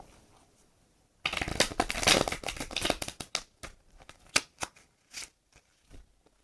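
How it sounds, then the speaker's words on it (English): A deck of tarot cards is riffled and shuffled, a burst of fast flutter followed by several separate slaps and taps as the cards are squared, close and crisp. "We're gonna shuffle this a couple more times"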